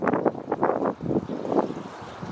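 Wind buffets a handheld Canon 90D camera's microphone outdoors in loud, irregular low rumbling gusts that surge and drop repeatedly, with no voices.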